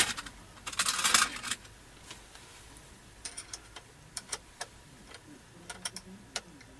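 Metal Allen wrenches are handled and sorted, opening with a dense jangle of clattering keys, then scattered sharp, light clinks and taps spaced unevenly, close by and fairly quiet.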